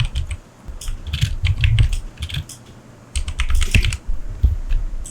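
Keys clatter on a computer keyboard in quick bursts of typing, close and crisp, with a short pause near the middle before the tapping resumes.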